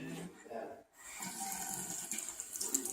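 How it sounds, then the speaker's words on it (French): Running water from a tap splashes as a child's small hands are washed and rubbed, a soft steady trickle with a brief pause, while an adult speaks quietly over it. "On lave. Lave. Frotte. Les petites menottes."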